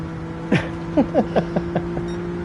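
A Team BMW car drifting in an online racing video game, giving a quick series of six or seven short, sliding tire chirps over a steady engine drone, close and fairly loud.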